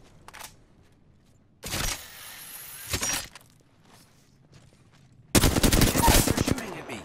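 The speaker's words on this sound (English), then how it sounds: "They're shooting at me." Automatic gunfire rattles in a first-person shooter video game, with a short burst, then a longer loud volley near the end, separated by quieter stretches.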